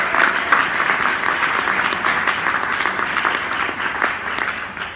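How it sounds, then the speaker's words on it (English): A crowd at a World Affairs Council event applauds in a dense, steady round of clapping that fills the room from start to finish. "So please join me in a round of applause for the World Affairs Council."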